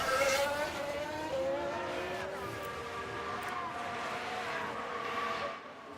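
Formula 1 racing cars in the F1 Manager game at the Barcelona circuit in Spain, engines whining at high pitch as one car laps another, a steady loud drone with shifting tones across six seconds, commentary voice faintly underneath.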